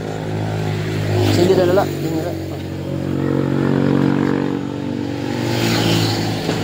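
A Rusi TC 125 motorcycle engine idles steadily after repair, a low continuous hum running close under people talking throughout.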